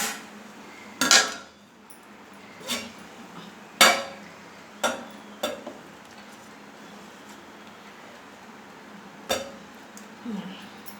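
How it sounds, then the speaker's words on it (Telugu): A plate is set over a pot of egg dum biryani to seal it, giving several sharp metallic clanks and knocks at irregular intervals over a faint background hiss. "ఇప్పుడు ప్లేట్ పెట్టి దీనిపైన"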